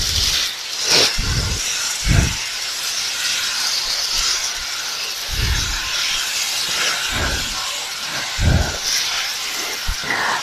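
Kerala-style prawns fry in a pan with a continuous loud sizzle and hiss. Intermittent low thuds and scraping mark stirring, and no speech is heard.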